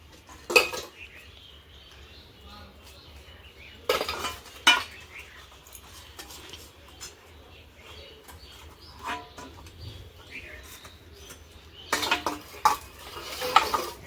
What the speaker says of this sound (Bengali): আমার বাসন কটা মাজা হয়ে গেল তো আমি এখন বাসন কটা ধুয়ে নিচ্ছি